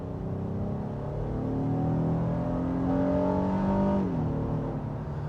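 A 2023 Honda's 3.5-liter VTEC engine accelerates hard, its rising harmonic drone climbing steadily in pitch, then dropping briefly at a gear shift before pulling again, heard from inside the cabin with continuous road noise.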